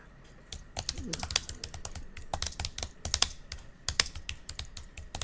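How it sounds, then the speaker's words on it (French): Someone types on a computer keyboard, a crisp run of quick key clicks with firmer taps like the Return key being struck, close and clear, with a little talk in the background. "je clique à la fin d'un paragraphe, touche Retour chariot."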